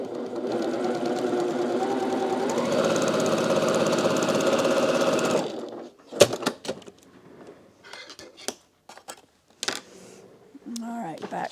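A sewing machine with a 1/4 inch foot stitches a quilt block in a steady, close, continuous whir for about five seconds. Scattered clicks and handling knocks follow after it stops.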